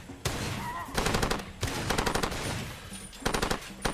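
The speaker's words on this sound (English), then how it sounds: "Who's shooting at me?" Bursts of automatic machine gun fire in the video game Far Cry 2, several loud rapid volleys separated by brief pauses, with a faint voice barely present underneath.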